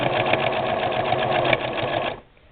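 A Singer 6212C sewing machine stitches cross-hatching into a thread background, running as a loud, steady rapid needle chatter for about two seconds before stopping abruptly.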